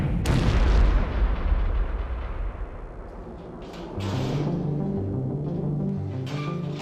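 Ammonium perchlorate explodes at a solid rocket propellant plant where the oxidizer is mixed with aluminum fuel. Deep, rumbling booms roll on continuously, and a second heavy blast swells up partway through.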